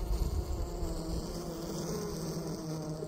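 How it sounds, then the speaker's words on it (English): Honey bees in a winter hive give off a steady low buzzing hum, heard up close and continuous at a soft level with no talking. "you can start hearing them buzzing too"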